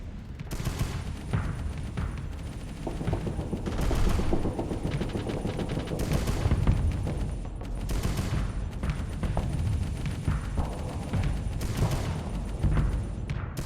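In the space combat game Starsector, a ship's gun and launcher fire in rapid overlapping bursts, with dense clattering volleys and booming impacts repeating throughout at steady loudness.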